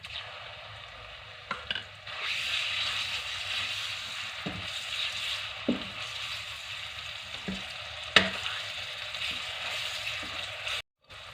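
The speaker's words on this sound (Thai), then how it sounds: "แล้วก็จะเอาหมู หมูลงผัดค่ะ" Pork stir-frying in a pan with golden fried garlic for a Thai sweet-and-sour dish, a steady broadband sizzle running throughout with occasional scraping knocks of the spatula against the pan.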